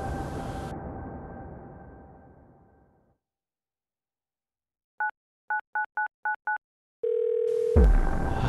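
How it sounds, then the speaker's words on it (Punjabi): Someone places a call on a telephone in a Punjabi comedy film scene: a fading background sound gives way to silence, then six quick keypad beeps sound in a row, followed by a steady ringing tone. "ਬਿਮਲੇ ਨੂੰ ਫੋਨ ਲਾ ਕੇ ਦੇਖਦੇ ਆ ਕੀ ਕਹਿੰਦਾ ਉਹ।"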